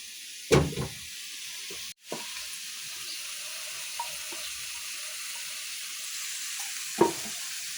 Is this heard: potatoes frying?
yes